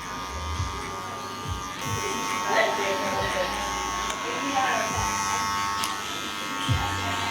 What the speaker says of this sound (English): just work through the corner of your clipper and just work on the darker areas